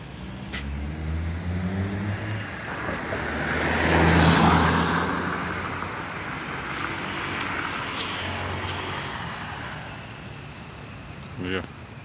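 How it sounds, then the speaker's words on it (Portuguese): Cars roll past at Tietê bus station in São Paulo at dawn, a steady mid-distance traffic wash that swells as one vehicle passes close, with someone talking over it. "só vai dar mais carro aí, tá vindo mais lá, acho que é DD também"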